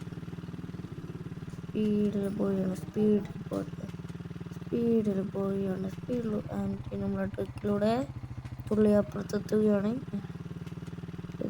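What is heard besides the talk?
dirt bike engine riding fast in a Minecraft-like video game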